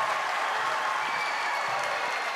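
A boys high school basketball crowd in a gym, a steady dense wash of cheering and clapping that holds at the same level throughout.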